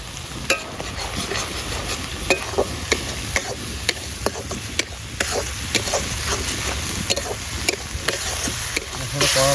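Spice masala with cumin powder and dried chilli powder fries in a pan, a steady sizzle broken by regular sharp scrapes and knocks of a spatula, roughly one stroke every half second.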